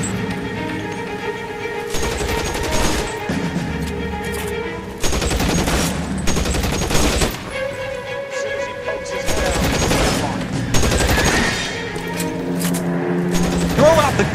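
Repeated gunfire in L.A. Noire, sharp bursts arriving in clusters every few seconds over game music and voices, loud and close throughout.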